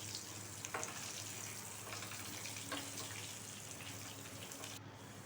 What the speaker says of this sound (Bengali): ধুয়ে এবারে নুন আর হলুদ দিয়ে ভালো করে ভেজে নেব, হালকা লাল করে।